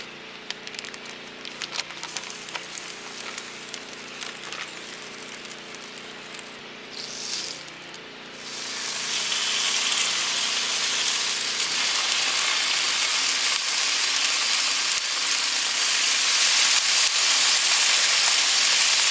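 Smithfield hickory-smoked bacon, a whole pack laid on a griddle over a Weber grill, breaks into a loud, steady hiss of sizzling fat that builds and holds, with faint crackles earlier.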